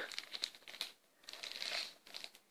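Wrapping paper around a handmade gift crinkles and tears as it is unwrapped, a close series of crisp rustling bursts with brief pauses between.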